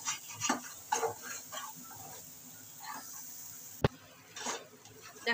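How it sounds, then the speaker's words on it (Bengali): Spice paste for egg korma, made of onion, garlic, ginger, green chilli, cashew and raisin paste, is stirred and fried in a pan. A faint sizzle runs under soft scraping strokes and one sharp clack, heard close and quiet, with no talking. "এবার ভালো করে একটু কষিয়ে নেব।"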